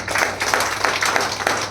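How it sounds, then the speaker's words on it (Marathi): A short burst of audience applause at a training event, with brisk, fairly soft clapping that runs steadily for under two seconds. "जोरदार टाळ्या."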